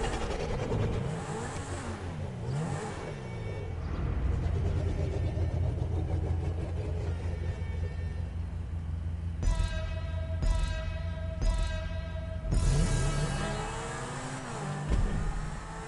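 Zentorno supercar engine driving in GTA Online, a steady loud revving drone with shifting pitch and gear changes throughout, alone without talk.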